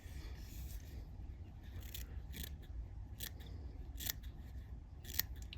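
Sharp snips from curved scissors trimming material on a fishing fly being tied, a handful of crisp close cuts spaced a second or so apart over faint background hum.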